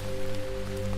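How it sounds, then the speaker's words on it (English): Rain falling in a forest, a steady dense patter of drops on surfaces, close and continuous with a constant low hum underneath. "I love the rain, especially when I'm not getting soaking wet."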